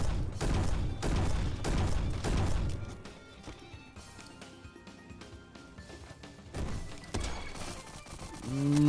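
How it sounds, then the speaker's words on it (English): Grenades go off in the Roblox game Bad Business as a rapid burst of repeated blasts, followed by a quieter stretch of clattering and mechanical clicks. A second burst of impacts comes near the end. "Whenever you're in trouble, if you spam grenades at your feet, you get out just fine."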